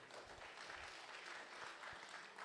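Audience applause at an economic symposium in Sunyani, a steady wash of clapping from a crowd, distant and faint, continuous throughout.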